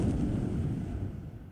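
A shell strikes a warship in the naval combat game War in the Pacific: a dull, low explosive boom with a rumbling tail that fades over about a second and a half.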